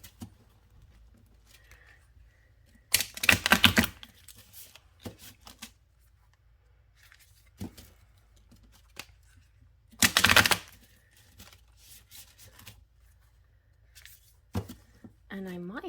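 Tarot cards being shuffled by hand at a reading table, two short riffling bursts a few seconds apart amid quiet taps and card handling, close and soft.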